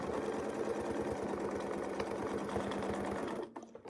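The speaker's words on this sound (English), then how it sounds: "we're just going to sew around the circle until we get to that other side." Sewing machine stitching steadily around a circular ruler template in free-motion quilting, a continuous close rapid mechanical whir with even stitch pulses that stops abruptly near the end.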